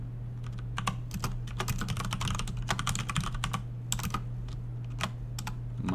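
Typing on a computer keyboard while coding, rapid irregular bursts of light clicky keystrokes up close over a steady low electrical hum, with no talking.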